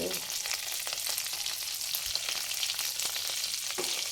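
Garlic frying in melted butter over a high flame for chicken soup, a steady dense sizzle with faint crackles running throughout, close and fairly loud with no talking.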